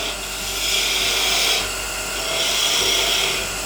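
A 3/8-inch detail gouge cuts into wood spinning on a lathe while a small Christmas ornament is turned, making a steady, close, loud rasping hiss that swells and eases twice across a few seconds.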